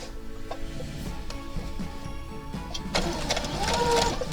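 A sewing machine runs a steady low hum while it stitches down garment seams, growing a little louder and busier in its last second and a half, near and alone.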